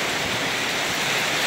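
Strong wind and hailstorm rain sweep over Chandvad town, a dense, steady roar of broadband noise holding at one level throughout, with no voices.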